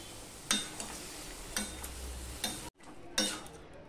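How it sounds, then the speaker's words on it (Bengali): Vegetables mixed into a chickpea curry in a pan: several distinct scraping and clanking spoon strokes at irregular intervals over a soft sizzle, close and clear, with a brief gap of silence between strokes. "এবার যে সবজিগুলো আমি তুলে রেখেছিলাম সেই সবজিটা দিয়ে দেব। দিয়ে ভালো করে মিশিয়ে নেব।"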